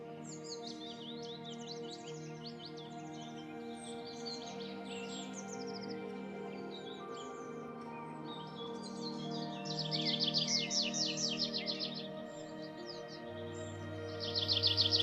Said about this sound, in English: the chirping of birds will tell you more about the paradise world